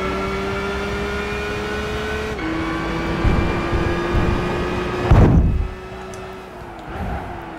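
Nissan Skyline GT-R V-Spec II Nür R34 race car engine in the Gran Turismo 5 video game, racing at Monza: a steady high engine whine that shifts pitch at gear changes, with brief bursts of tire and collision noise, no voices.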